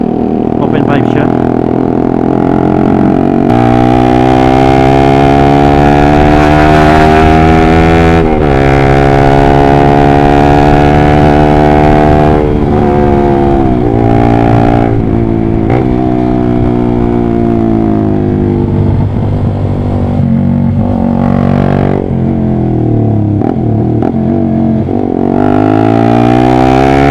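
A Honda CBR150R motorcycle fitted with an SC Project open-pipe muffler revs loudly and close up, its raspy engine note repeatedly climbing and falling in pitch over a steady idle.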